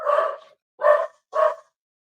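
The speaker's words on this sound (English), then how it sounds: "barking with your dog" A dog barks three times in quick succession, close and clear, each bark short and separated by brief silences.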